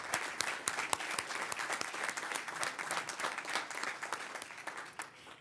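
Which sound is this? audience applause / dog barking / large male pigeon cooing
audience applause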